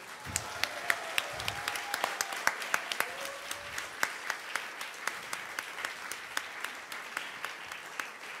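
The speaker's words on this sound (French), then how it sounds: "Je crois qu'on peut applaudir Christine" Audience applause at a family reunion event, steady clapping from a moderate crowd with sharp individual claps standing out, continuing evenly throughout.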